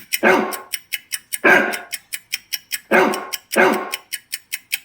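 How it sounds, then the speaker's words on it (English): A dog barks repeatedly in a steady rhythm, four loud full barks with quicker, sharper yips between them, close and clear. "I already know that was a dog,"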